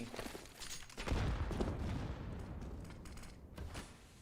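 Three grenades go off in CS:GO as a muffled burst of booming blasts that swells and lingers as a rumbling fusillade, without voices.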